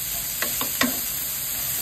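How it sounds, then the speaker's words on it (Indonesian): Carrots and egg sauté in a pan with a steady, fairly quiet sizzle, and a few quick spatula scrapes and stirs stand out near the middle; no voices. "Tumis sampai layu."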